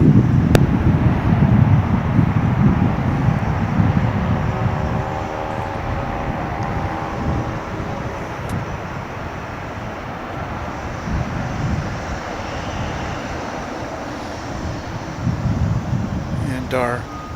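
A plane from Austin at DFW airport rumbles at a distance as a low, steady engine roar that fades and then swells again, with a person talking over it.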